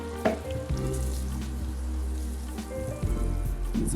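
Butter sizzles in a frying pan before burger patties go in, a continuous close crackle with a couple of light clinks and stirs.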